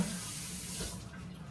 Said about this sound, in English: Wash the can off.